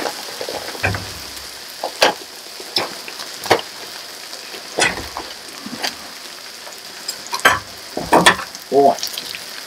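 Swedish potato pancakes fry alongside pork on a griddle, giving a steady close sizzle broken by irregular sharp crackles and pops as fat spatters.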